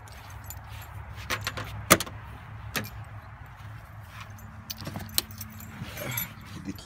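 Car keys jangle in several sharp, close bursts around a 1990 Ford Mustang GT 5.0, with a low steady hum underneath.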